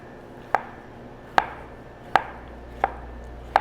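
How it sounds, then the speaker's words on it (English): A knife chops bell peppers on a cutting board in a home kitchen, five crisp separate thuds spaced slowly and evenly, close and fairly loud over quiet room tone. "So we're going to begin by chopping our ingredients."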